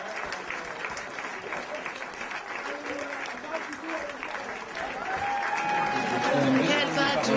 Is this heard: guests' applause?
yes